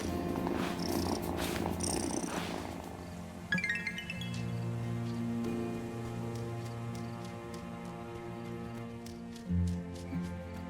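A cat purrs in the video game Wylde Flowers, a steady low rumble running under soft game chimes and a brief rustle early on.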